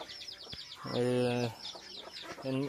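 Hens cluck nearby in short bursts, with a few louder drawn-out calls among quieter clucks and faint background chatter.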